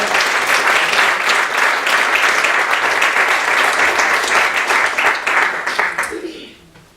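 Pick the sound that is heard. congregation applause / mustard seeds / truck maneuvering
congregation applause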